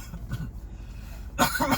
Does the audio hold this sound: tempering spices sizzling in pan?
no